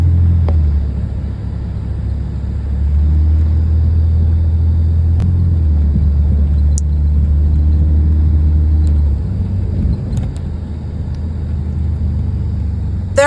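Car ride in an Uber arriving at a beach: steady low engine and road rumble from inside the vehicle, continuous and fairly loud throughout, with no talk.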